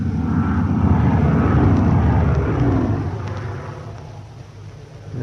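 Aircraft drone overhead during a wartime air raid in a radio drama, a loud low engine roar that builds, holds, then fades away as the planes pass, with no talk.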